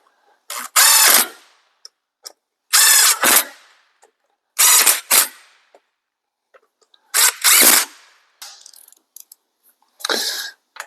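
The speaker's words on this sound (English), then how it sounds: "We'll run them up lightly with the gun. Then we'll snug them with the ratchet." On a Jeep Dana 44 front axle, an impact gun runs bolts up in five short, loud, separate bursts with quiet gaps between, while faint ratchet clicks tighten them in between.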